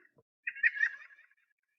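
A single short nasal, chattering bird call, a quick run of laugh-like notes, alone against silence.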